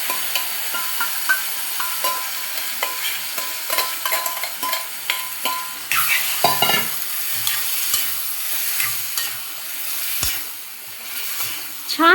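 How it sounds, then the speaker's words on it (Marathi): Mango pieces being stir-fried in a hot spice tempering for mango raita, with a continuous close sizzle and repeated scraping and stirring clatter of a spoon against the pan. "छान आंबे ह्याच्यामध्ये परतून घ्यायचे आहेत फोडणीमध्ये।"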